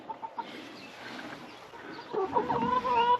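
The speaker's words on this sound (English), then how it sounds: "Got a chicken, that's what we got." Chickens in a coop cluck and murmur softly, a few short calls at first, then louder, closer clucking with a rising squawk near the end.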